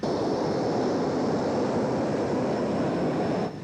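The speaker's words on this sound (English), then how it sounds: "it's the world's smallest jet" Tiny single-seat jet airplane, the world's smallest, weighing 450 pounds with a 12-foot length, 17-foot wingspan and 350 mph top speed, flying at a 1991 airshow in Abbotsford, producing a steady, loud, unbroken engine roar throughout.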